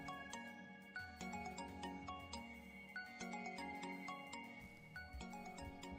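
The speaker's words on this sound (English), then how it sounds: "That must be our cell phone, I guess." A cell phone rings with a repeating melodic ringtone, moderately quiet in a room, its tinkling pattern looping over several seconds with no one talking over it.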